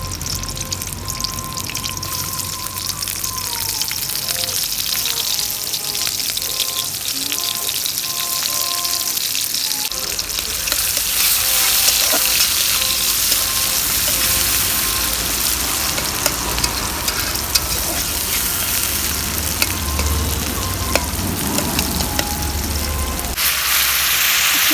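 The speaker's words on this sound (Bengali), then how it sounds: "ও, মা এখন তেল দিয়ে দিচ্ছে, এখন পেঁয়াজ দিতেছে।" Onions frying in hot oil for a fish curry, a steady dense sizzle that swells louder partway through and holds at close range with no talking.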